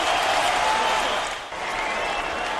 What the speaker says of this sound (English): the partisan fans cheering for Urijah Faber